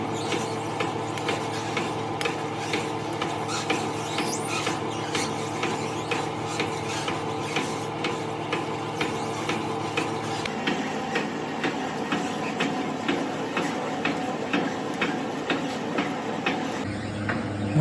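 A coconut grating machine shreds coconut for making oil at home, a continuous rasping, rattling grind with a fast regular ticking pulse that runs throughout and shifts tone partway through.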